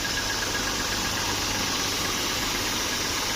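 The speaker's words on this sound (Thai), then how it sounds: "ปั๊มญี่ปุ่นครับ โอ้เสียงมันดังดีไหม" A motor-driven Japanese three-cylinder spray pump runs loudly and steadily nearby, a dense, even mechanical drone with a buzzing hum and no pauses.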